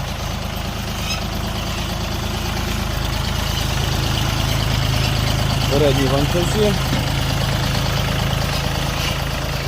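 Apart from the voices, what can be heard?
three-cylinder tractor engine idling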